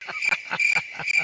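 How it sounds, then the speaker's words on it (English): Crickets chirp in a rapid pulsing series of high, bright trills, a stock sound effect played on its own right after a bad joke. "Crickets."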